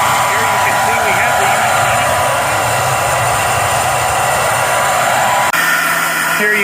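A Retsch grinder huller runs with its unit closed up, a loud, steady whirring roar that continues throughout and briefly shifts pitch near the end, with someone talking over it.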